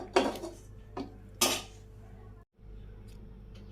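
A curry pot is lifted off the stove and food is served in a Bangladeshi village kitchen. A few distinct metallic clanks of pot and utensils ring out close by, then quieter background follows.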